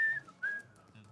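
A whistled melody from a song, a clear, thin tune of held and sliding notes over faint background sound, carrying for about a second.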